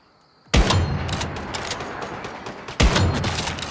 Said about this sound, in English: This new gun's not bad, actually, eh?